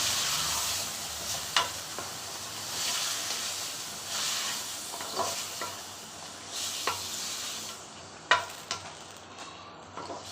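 Steady sizzling of chicken curry in a hot pan with intermittent scraping clicks of a spoon stirring, close and fairly quiet, no voices.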